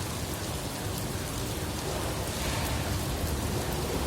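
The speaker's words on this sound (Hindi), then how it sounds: "इतना बारिश हमने बरसात में नहीं देखा यहाँ पे" Heavy rain pours down steadily in a dense, unbroken hiss that stays loud and even throughout, with no one talking.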